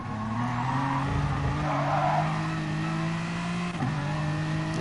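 A BMW M4 race car in a sim racing league lap, its engine droning steadily close up while tyres squeal and skid through a corner, the engine note dipping briefly near the end.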